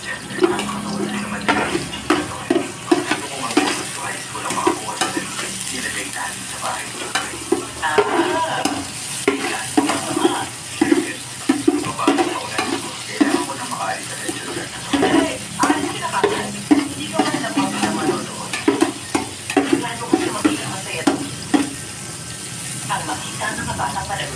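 Garlic sizzling in a hot pan as the base for pork igado, a steady bright frying hiss with repeated stirring and scraping throughout, with a voice faintly audible beneath it.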